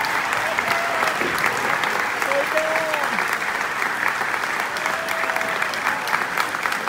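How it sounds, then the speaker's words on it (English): A concert audience at a show applauds steadily and loudly. The clapping is a dense, even wash that lasts the whole stretch, with faint cheers and voices mixed in. "if we applaud loudly and warmly enough, he may come up and play a little bit"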